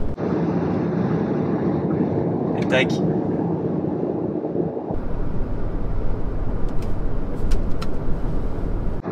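Steady cabin road noise inside a rear-wheel-drive Volkswagen ID.4 electric SUV cruising on a motorway: a continuous low rumble and hiss of tyres and wind, with a brief spoken word over it.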